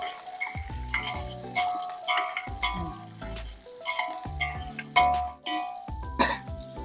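Onions fry in a pan at home as a utensil stirs them, with loud scraping and clinking strokes coming in bursts over a constant sizzle, close up, with no talking.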